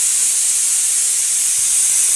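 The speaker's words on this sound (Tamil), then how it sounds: "இப்போது இந்த குக்கர் 3 விசில் கொடுத்துருக்குங்க." A pressure cooker on the stove, just switched off after three whistles while making tomato kuzhambu, lets out a steady, loud hiss of escaping steam that holds unbroken throughout.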